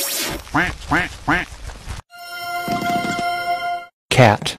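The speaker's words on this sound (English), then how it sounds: "Duck. Quack, quack, quack, quack." A duck quacks in a quick series of three or four nasal calls, loud and close, followed by a buzzy toy-like tone and another short burst of quacking.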